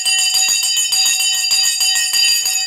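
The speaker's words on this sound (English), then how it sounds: "The bell has gone." Stock market closing bell ringing steadily and loudly with bright, sustained metallic tones and a repeating pulse, alone without talk.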